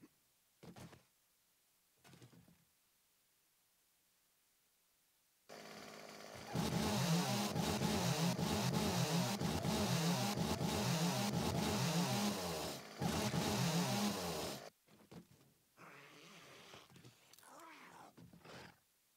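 A chainsaw in the zombie survival game 7 Days to Die roars at full, steady revving for about nine seconds, with a brief pause and restart, framed by quieter sputtering and rustling before and after.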